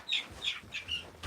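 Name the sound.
young chickens clucking in a pen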